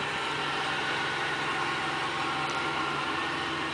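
A 1995 Chevy Monte Carlo Z34 with the 3.4 quad cam engine idling, a steady, even drone with a smooth hum and no revving, heard close and continuous throughout.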